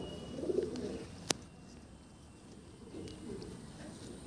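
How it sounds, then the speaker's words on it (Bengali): Pigeons at a pigeon show in Andhra give a few soft, low coos that stay faint against a quiet background, with one sharp click partway through. "এটা একটা কালো মাদ্রাস ফিমেল পায়রা"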